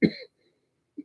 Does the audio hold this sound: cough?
yes